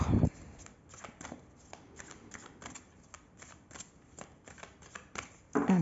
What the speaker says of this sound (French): je vais faire une coupe